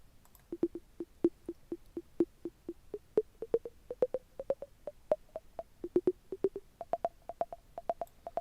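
A synthesized tom in Ableton Live hits in a steady rhythm, about two per second, its pitch climbing stepwise over the run to roughly an octave higher; no voices.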